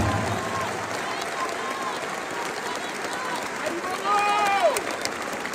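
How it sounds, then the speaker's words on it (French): Broadband crowd applause fills the whole stretch, steady and dense, swelling slightly near the end, with voices mixed in underneath. "je vous demande de vous applaudir avec la plus grande puissance"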